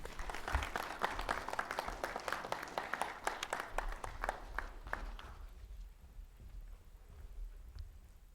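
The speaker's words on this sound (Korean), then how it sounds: "큰 박수 부탁드립니다." An audience at a university president's farewell and inauguration ceremony claps in a hall, with sharp, close claps that thin out midway and fade into a quieter, diffuse patter.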